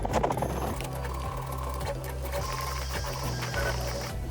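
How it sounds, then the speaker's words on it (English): DIY-built 3D printer running its first print: close, rhythmic stepper-motor whirring that pulses in regular bursts like a sewing machine, with faint high whines and no voices. "The bench is printing."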